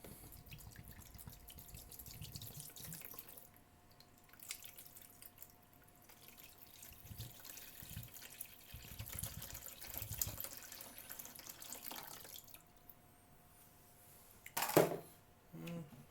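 Water poured into the tank of a portable Prego air-conditioning unit, a soft continuous trickle and splash with a louder burst of pouring near the end, no talk.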